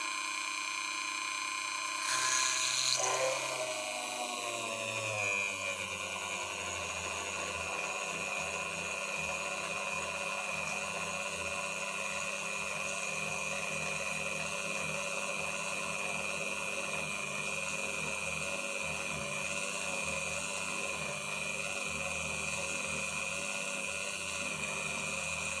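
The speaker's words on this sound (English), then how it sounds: "letting the drill go through at its own pace, watching the cuttings coming out" A drill bores slowly and steadily through a David Brown 990 tractor clutch part, a continuous whining machine tone running close and alone after a brief louder start.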